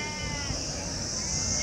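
Sheep bleat at the weekly Angallu sheep market amid busy background murmur, with people talking nearby.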